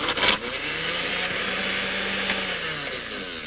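Frozen coffee ice cubes churn in a food blender with a sustained, steady motor whine and gritty grinding, a brief rattling knock near the start and another small jolt midway, loud and close throughout.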